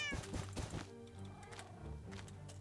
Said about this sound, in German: Scheiß Katzen.